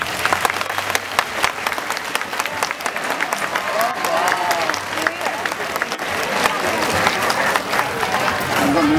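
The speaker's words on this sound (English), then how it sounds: "And to give them all a big round of applause." An audience at a seal show applauds, dense steady clapping from a crowd that carries on for several seconds, with a voice heard faintly over it partway through.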